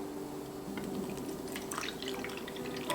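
Water drips one drop at a time into a plastic-wrapped cake ring, a scattering of small, faint plinks over a quiet, steady background.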